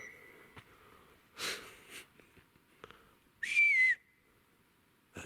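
A loud, sharp whistle rings out in a forest, a single rising-and-falling blast lasting about half a second. Quieter sniffs and breathy noises come before it, with faint ambience in between.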